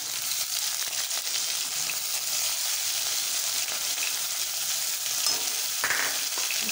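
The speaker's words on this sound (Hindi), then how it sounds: "लहसुन और उसका अदरक का पेस्ट डाल रही हूँ।" Garlic and ginger paste frying in hot oil after cumin and chili, a dense continuous sizzle with light stirring scrapes, close and steady, no voices over it.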